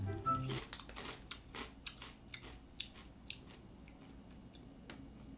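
Crunchy bites and chewing of beef and onion flavoured potato chips, close and fairly quiet, a series of irregular crisp snaps over a few seconds with no talking.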